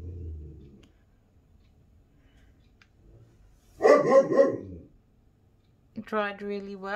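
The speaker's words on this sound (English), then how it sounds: "sorry about the dog barking" A dog barks outside a house during an acrylic paint-pouring session, one short burst of loud, close barks in an otherwise quiet room. Brief talk can be heard before the barks, and a voice follows them.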